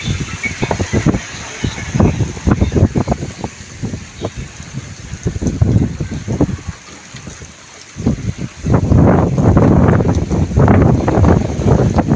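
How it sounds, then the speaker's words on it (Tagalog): Strong typhoon wind at sea buffets and roars against the microphone in heavy gusts, louder toward the end, with no one speaking. "malakas yung hangin hindi ako makalabas dito sa pinto oh"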